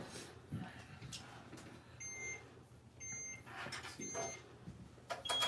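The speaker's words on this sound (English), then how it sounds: "The machine will beep at 1 second, and it will continue beeping at 0." A heat press machine's timer beeps during T-shirt printing, giving three short, thin electronic beeps about a second apart, fairly quiet, with background noise and people moving around nearby.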